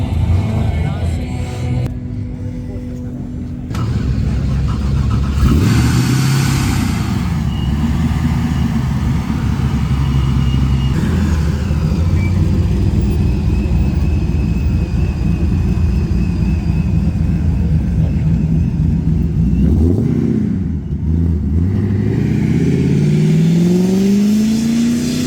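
Loud engines rev and roar past at a supercar meet, with repeated surges and a rising pass-by near the end over a constant outdoor crowd background.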